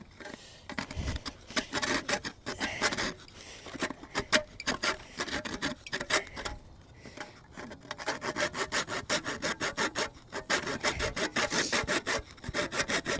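Rhythmic scraping and rubbing of wood on wood as a spindle is worked against a board to make friction fire, loud and close, with bursts of rapid strokes and brief pauses between.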